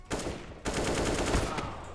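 Rapid gunfire in a shooter video game: a dense, loud automatic burst after a brief opening shot, rattling continuously for well over a second.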